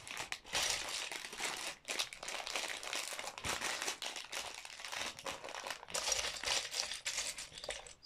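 A small plastic bag of LEGO parts for a Star Wars Darth Vader set crinkles and rustles continuously at close range, with sharp crackling bursts as it is handled and opened.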